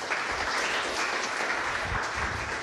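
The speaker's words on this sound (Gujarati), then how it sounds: "આપણે ફરી એકવાર નિકેતભાઈ માટે તાળીઓ પાડીએ." Steady applause from an audience at a Gujarati youth book-talk event, a dense wash of many hands clapping continuously at moderate volume, with no voices above it.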